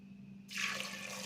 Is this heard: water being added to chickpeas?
yes